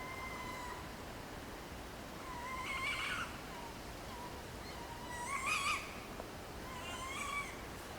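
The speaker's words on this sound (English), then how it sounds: "sounds to me very much like an owl" Faint, distant screeching calls of an owl in woods at night, a few rising cries spread out over a steady hiss of night background noise.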